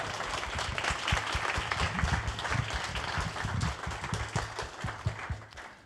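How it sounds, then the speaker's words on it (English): A crowd applauds with dense, continuous clapping, moderately loud and steady, tapering slightly at the end. "can we get a round of applause just for the Monzo community?"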